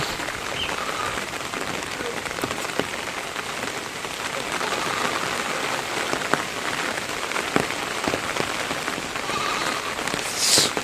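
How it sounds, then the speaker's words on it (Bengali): Steady rain pours down outdoors in a rural Bangladeshi homestead setting, a dense continuous patter of drops striking surfaces with a few sharper drips, loud and close throughout with no talk over it. "তাড়াতাড়ি বৃষ্টি আসতেছে তাড়াতাড়ি যাও"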